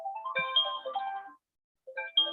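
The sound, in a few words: phone alarm going off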